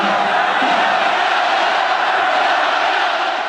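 A steady, loud roar from a stadium crowd of LG Twins baseball fans celebrating a Korean Series championship win, continuous and dense, with no distinct voices rising above it.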